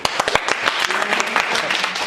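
Students in a classroom clap during a history lesson, a short burst of uneven, close handclaps with a teacher's voice audible around them.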